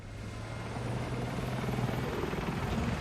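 Helicopter rotor thumping steadily in Battlefield 6, a loud, close, continuous drone with low tonal engine whine throughout, no talk.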